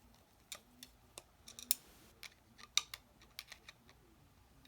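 Three screws are undone to remove the can motor from a Hyper Tough 20V reciprocating saw, producing faint, sparse, irregular clicks and ticks of metal tool contact in a quiet room.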